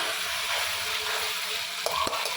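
Spice paste with tomato puree fries in a pan for chitol fish tel jhal, giving a steady, close hiss of sizzling with a couple of brief scrape-like clicks near the end.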